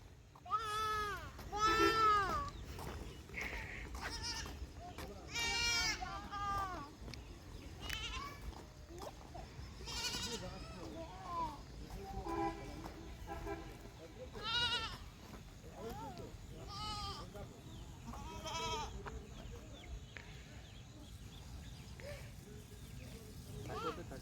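Goats on a farm bleat repeatedly at close range, several wavering calls spread across the clip, mixed with children and adults talking throughout.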